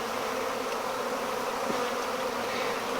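Honeybees buzz steadily at a hive, a dense, continuous hum of many insects close by with no talk.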